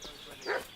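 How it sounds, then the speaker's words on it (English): A dog in a video game gives a short, excited bark or yelp, heard once at moderate volume inside the game's soundscape. "What's that dog making such a fuss about?"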